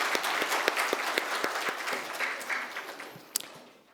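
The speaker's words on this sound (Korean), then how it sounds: "한 해 동안 은혜로 인도해 주신 하나님께 더 크게 영광의 박수를 돌리겠습니다." Church congregation at a Sunday worship service clapping together, a moderately near, fairly quiet round of applause with distinct individual claps that gradually thins and fades toward the end.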